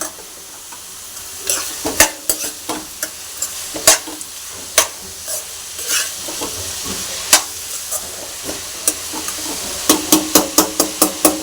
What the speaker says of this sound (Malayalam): ഇതിൽ ഞാൻ ക്യാബേജ് ക്യാരറ്റ് സവാള ഇത് മൂന്നുമാണ് ഞാൻ ഉപയോഗിച്ചിരിക്കുന്നത് ഇളക്കി കൊടുക്കാം